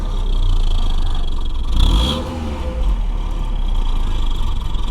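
A Hyundai i20 fitted with a modified turbo-whistle exhaust revs loudly and steadily, with a brief rising surge and a thin whistling tone partway through before settling back to a rough, close drone.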